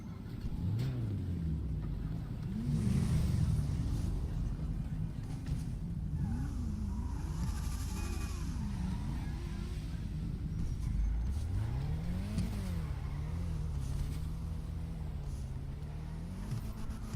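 A car engine in a roleplay video game rumbles and revs repeatedly, pitch rising and falling through several throttle bursts over steady low drone, loud and close with no speech.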